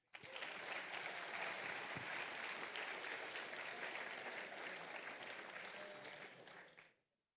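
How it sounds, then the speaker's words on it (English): A conference audience at NorthSec 2024 claps for a speaker, with dense, steady applause that holds for several seconds before quickly dying away. "Please give a round of applause for Charles Frédéric."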